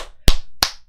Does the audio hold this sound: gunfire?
no